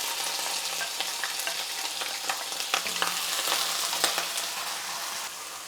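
Curry Feng, a dryish Eurasian curry, sizzles and fries in a wide wok with steady crackle and scattered sharp pops, close and fairly loud, with no talking.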